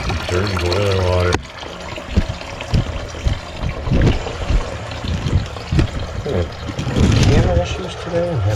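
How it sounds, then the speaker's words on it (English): Dirty water drains out of a radiant heating boiler manifold, a steady rushing trickle under intermittent clanks and handling noises, with a voice speaking briefly partway through. "Dirty boiler water."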